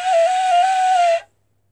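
A single steady flute note, played with the thumb off the hole, sounds clearly and evenly for just over a second, then cuts off into silence.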